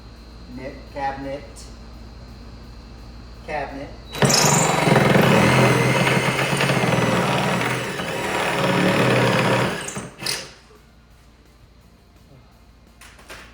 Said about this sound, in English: Funny thing about sawzalls, they cut in a straight line.